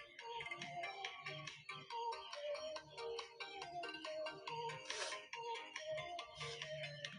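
A melodic phone ringtone repeats in a steady looping pattern as a call goes unanswered, fairly faint but clear with no speech over it.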